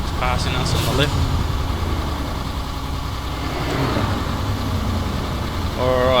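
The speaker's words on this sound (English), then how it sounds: "As we're changing gears, we can hear those trucks passing us on the left." Heavy trucks and the player's own truck drone in Euro Truck Simulator 2, a steady low engine rumble that runs throughout. A person talks over it.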